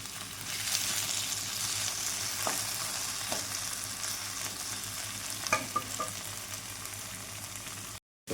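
Potatoes fry in a pan with chili powder and cumin, a steady soft sizzle with occasional light scrapes and clinks of stirring and no talking.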